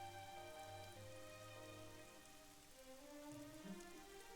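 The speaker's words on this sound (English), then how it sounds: "It's raining." Steady rain from the video game AI: The Somnium Files, a constant wash of drops running under layered music tones, fairly quiet and even from start to finish.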